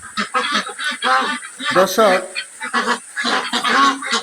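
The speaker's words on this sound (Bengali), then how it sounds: "এখানে আমরা যে হাঁসগুলা রেখেছি" French Pekin ducks kept for breeding eggs on a duck farm, loud honking quacks in overlapping bursts close by, with someone speaking over them.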